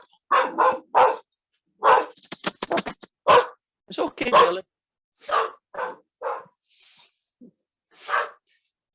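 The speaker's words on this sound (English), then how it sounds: "They're pretty good guard dogs. Unfortunately, they bark at everything." Several guard dogs bark excitedly in loud, repeated bursts close by, with a brief spoken line between the barks.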